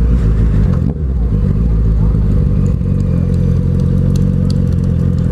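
Motorcycle engines idle and rumble steadily at a Megacycle motorcycle gathering in Poços de Caldas, a dense low drone close by with faint clatter, while voices talk over it.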